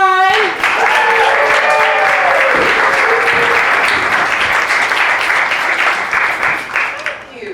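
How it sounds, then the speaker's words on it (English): An audience at a live variety comedy show breaks into loud, sustained clapping and cheering for a stand-up comedian. Shouts and whoops ring out at the start, and the applause slowly thins toward the end. "Please put your hands together for Sunshine!"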